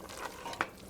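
Vegetables with drained potato stirred in a pot: a brief soft scrape and a single clink of a utensil against the pot over a faint background sizzle.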